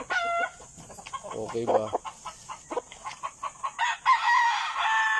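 Fighting cocks in a backyard coop, several close birds clucking and crowing in overlapping bursts, with one long crow near the end and someone briefly speaking.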